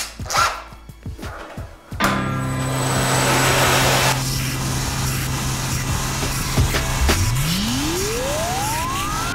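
TIG welding arc on tungsten: a few soft taps, then a steady loud hissing buzz with a constant hum underneath, ending with a rising whine.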